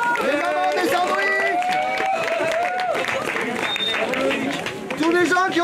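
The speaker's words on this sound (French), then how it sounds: "tous ceux qui ont bossé sur la course, vous pouvez les applaudir" A crowd at a kids' snowboard national tour race applauds the people who worked on the course, with dense, steady clapping and some cheering running throughout and voices calling out over it.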